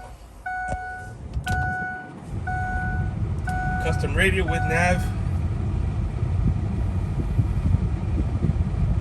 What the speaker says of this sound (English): I'll start the truck. It's a little loud